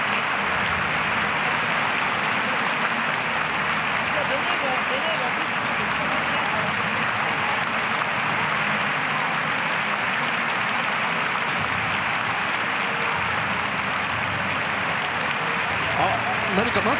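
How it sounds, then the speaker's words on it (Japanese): A football stadium crowd applauds a retiring referee at the end of a J.League match, a loud continuous roar of clapping and cheering that stays steady throughout while a commentator talks over it. "大きな拍手で送られます。"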